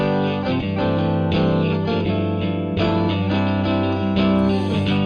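Electric guitar runs through an amp emulator effect in Reason, with sustained distorted chords changing every second or so, loud and dense with no talking.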